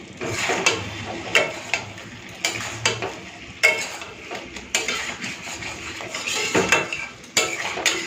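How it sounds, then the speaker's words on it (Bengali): Fried potatoes and pointed gourd being sautéed with spices in a pan, with loud repeated clanks and scrapes of a metal spatula against the pan in an irregular rhythm, close up and without talk. "একটুখানি 2-4 মিনিট ভালো করে কষে নিই মশলার সাথে এই আলু আর পটলটাকে"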